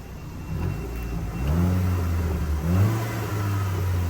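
A Volkswagen EOS engine revs up steadily, rising in pitch and loudness before settling into a sustained, throaty drone.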